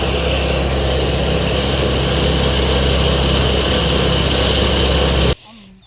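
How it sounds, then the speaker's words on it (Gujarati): A tractor engine harvesting groundnuts in a field near Khedbrahma runs loud and steady at close range, then cuts off sharply near the end, leaving faint background sound. "ફાઇનલી મિત્રો ટ્રેક્ટર સામેની સાઈડે ચાલી ગયું છે"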